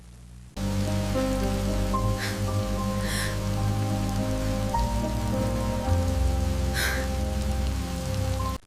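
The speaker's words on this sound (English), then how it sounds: "when the rain grew heavier" Heavy rain pours steadily onto a surface, a dense close hiss under a low sustained musical drone, with a few brief brighter splashes along the way.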